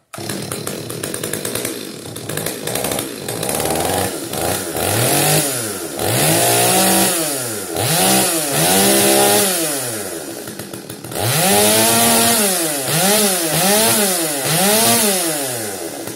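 Stihl chainsaw with a newly replaced ignition coil starts outdoors and runs loud and close, its engine repeatedly revving up and dropping back in sweeping surges over several seconds.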